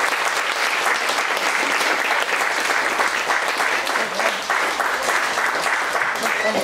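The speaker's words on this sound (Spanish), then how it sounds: "Esto merece un fuerte aplauso" A crowd at an International Day of Older Persons celebration in Mogán, 2021, claps loudly and continuously, a thick, even roar of many hands lasting the whole stretch.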